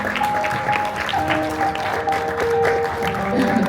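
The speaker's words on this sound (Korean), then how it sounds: "자, 여러분 한 번 더 큰 박수 부탁드리겠습니다." Applause from a large audience welcomes the Michelin Guide Seoul & Busan 2025 restaurant chefs, steady and sustained throughout, with music or tonal sounds running underneath.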